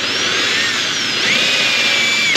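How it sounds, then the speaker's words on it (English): Power drill whining steadily as it bores out plastic welds on a GMT800 Silverado/Yukon HVAC evaporator case, close and loud, its pitch dipping midway then holding until it stops abruptly. "continue to drill these guys out"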